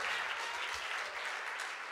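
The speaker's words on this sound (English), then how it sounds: "I want to thank you for the clap" A short burst of audience applause at an interview taping with A$AP Rocky, even and fairly faint, with no voices over it.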